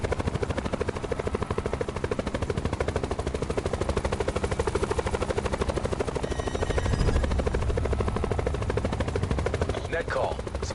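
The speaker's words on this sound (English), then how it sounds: "It's perfectly safe in my helicopter." Helicopter in the PS4 battle royale game Black Ops 4 Blackout, its rotor a rapid, steady chop that fills the whole stretch, loud and close, with a brief rise partway through.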